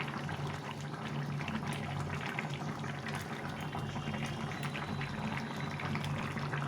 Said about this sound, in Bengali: ঝোলটা সুন্দরভাবে ফুটে গেছে